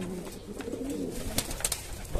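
Jhumka pigeons kept by fanciers in Jaipur coo in a low, continuous rolling murmur close by, with a few sharp clicks and flutters on top.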